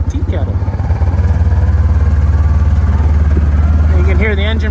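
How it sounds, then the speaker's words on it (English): A quad's engine drones steadily with a deep, rumbling pulse as it slows under engine braking, and a voice briefly sounds over it near the end. "And you can hear the engine braking."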